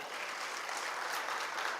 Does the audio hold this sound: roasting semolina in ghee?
no